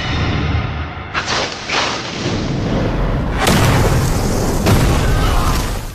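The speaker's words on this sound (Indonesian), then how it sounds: "Akibat ledakan itu, anak buah Si Uji habis tak tersisa." An action film's trap explosion goes off in a loud, heavy blast, followed by a second booming burst and rolling rumble lasting several seconds, with no talking.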